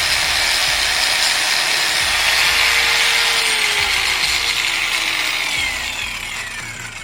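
An Ingco 900W cordless angle grinder runs at speed setting 3 with a loud, high, steady whine that eases slightly toward the end, with no one talking.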